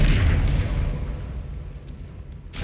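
A Confringo blasting spell exploding in Hogwarts Legacy gives a deep booming burst at the start that rumbles and decays over a couple of seconds, ending with a brief sharp pop.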